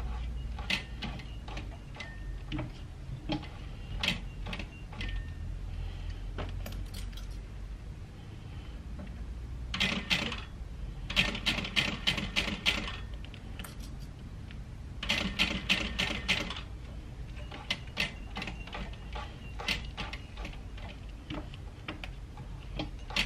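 A hand-cranked sewing machine stitching the bottom edge of a fabric handbag, a close rapid ticking clatter of needle strokes in bursts with short pauses, fairly quiet and with no talk.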